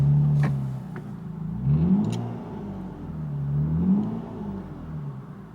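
A Lexus IS200 engine idling with a low, steady rumble, revving up and settling back twice, close by with no voices.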